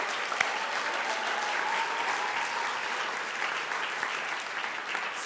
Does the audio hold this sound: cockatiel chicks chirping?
no